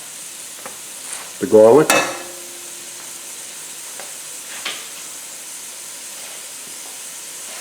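Onion and garlic sweat in a pan for broccoli and celery soup, with a short burst of stirring and sizzle near the start, then a steady soft hiss with faint clinks, a voice speaking briefly.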